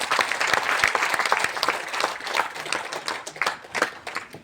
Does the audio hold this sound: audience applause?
yes